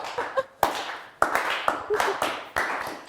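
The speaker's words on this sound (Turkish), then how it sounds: "Üzgün alkışı" A studio audience on a Turkish television word game show gives a short, sparse round of sympathetic applause: a few separate bursts of clapping, each fading quickly, with a brief voice near the start.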